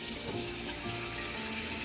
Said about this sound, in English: Now we fill it up with cold water